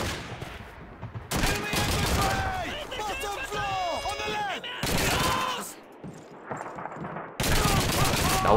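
Loud bursts of MG42 machine-gun fire in the World War II shooter Call of Duty 2, with rapid fusillades from several guns in repeated blasts and short pauses, plus shouting and whistle-like effects between volleys.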